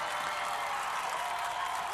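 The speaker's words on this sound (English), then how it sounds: "and the crowd going crazy" A large crowd at an American Ninja Warrior qualifier in Houston cheers and applauds in a dense, continuous roar of clapping and shouting, steady and distant-sounding for the whole stretch.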